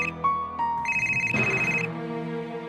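A phone ringtone in an Indonesian TV drama, a melodic electronic tune of several short tones and then a longer sustained note, clear and moderately near, with no talking.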